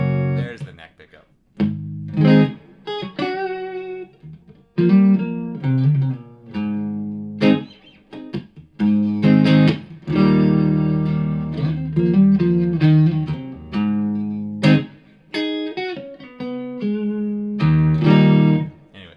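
A Fender Modern Player Thinline Telecaster Custom played on its neck pickup through a Blackstar amp, a warm, thick clean tone with chords and single-note runs in phrases with short gaps.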